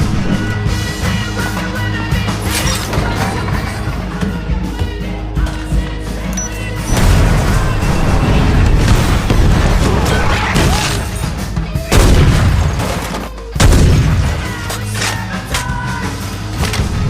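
Gunfire and explosions from an action film in which a man fights off attackers with a stash of weapons: loud, continuous bursts of shots, crashes and booms layered over a dense score, with no pause across the scene.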